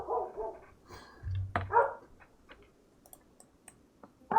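Dogs bark in the video game Rimworld, a few short, quiet barks spaced irregularly over a few seconds, mixed with faint ticking game sounds.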